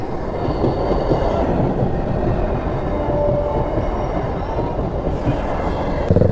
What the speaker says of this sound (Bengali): আমরা এই মুহূর্তে দাঁড়িয়ে আছি নবদ্বীপ ধাম রেলগেটের সামনে, আর সামনে যাচ্ছে লোকাল ট্রেন